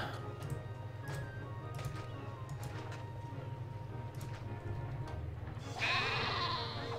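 Sheep bleat in the city-building game Caesar 3, a short burst near the end rising over a steady low game ambience and hum, with faint ticking clicks scattered throughout.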